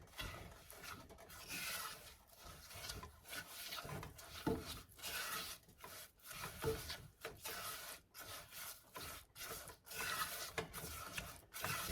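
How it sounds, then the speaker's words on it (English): Sugar is stirred in a pan for brown sugar caramel icing, giving a continuous gritty scraping and rubbing that keeps going in uneven strokes, close and fairly quiet, with no talking. "It's just stirring this sugar."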